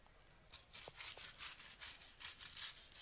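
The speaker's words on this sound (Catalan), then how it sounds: "Ara ja en podríem tallar això amb el ganivet de serra davant del client" A serrated knife saws through crispy food in a restaurant kitchen, a series of rhythmic rasping strokes with crunchy crackles, close and fairly clear, without voices.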